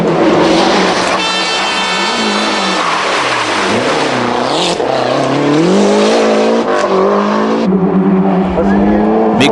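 A Lancia Delta Intégrale rally car at the 1991 Rallye des Garrigues, European rally championship, its engine loud and close, revving and shifting through rising and falling pitch sweeps, with someone talking over it.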